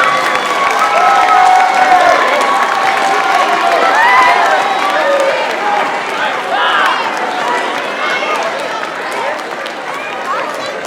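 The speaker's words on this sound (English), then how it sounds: "give them a round of applause for all they've done to help you get here tonight" Audience at an 8th-grade promotion ceremony applauding families, sustained loud clapping and cheering from a large crowd in a hall, with scattered shouts and chatter mixed in.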